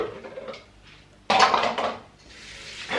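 Dishes and cutlery clatter in a kitchen while kefir is made, a sudden loud burst of clinking and scraping after quieter handling sounds, close by.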